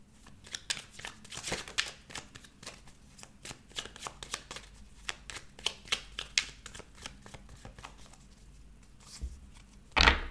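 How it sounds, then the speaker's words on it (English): Tarot cards being shuffled by hand up close, a rapid series of papery riffles and soft flicks in bursts, ending with a louder thump. "I will just shuffle the cards"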